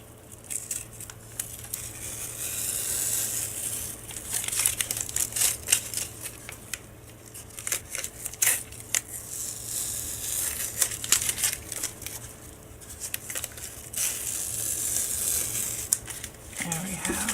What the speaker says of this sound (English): I'm going to pull the painter's tape off first so I can lay this down.